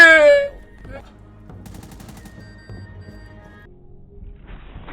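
Gunfire in Rainbow Six Siege: a brief burst of in-game shots among quieter game sounds and effects, following a loud opening moment.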